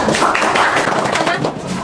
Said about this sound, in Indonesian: Tepuk tangan untuk kelompoknya bangsa